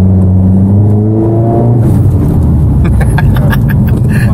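A Mitsubishi Triton pickup with a remap and new intercooler piping drives along, its exhaust droning with rising engine tones, then settling into a steady rumble close by.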